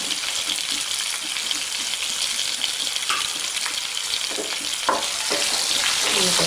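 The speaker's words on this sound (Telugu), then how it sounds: "చితక్కొట్టిన వెల్లుల్లి వేసి బాగా వేయించుకుందాం." Crushed garlic and green chillies fry in oil, a dense, bright sizzle with crackling that holds steady and swells slightly near the end, with occasional stirring knocks and no speech.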